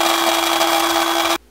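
A coffee grinder whirs loudly and steadily as beans are ground finer for a homemade latte, a sustained high buzzing that cuts off abruptly at the end.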